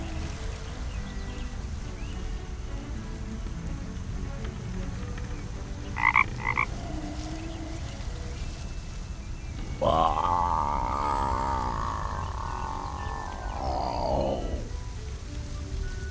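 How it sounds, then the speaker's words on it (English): A dozing rock toad in the adventure game The Night of the Rabbit lets out one long, loud, low croak in the second half, over a steady bed of ambient forest noise, with a couple of short chirps just before. "The rock toad just seems to be dozing now."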